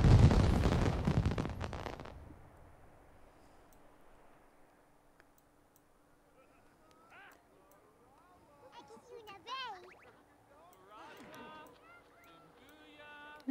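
Fireworks at a festival in The Sims 4 burst in a loud crackling cluster at the start, then fade into quieter game ambience with chirpy synthetic sounds.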